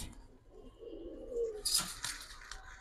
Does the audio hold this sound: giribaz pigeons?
yes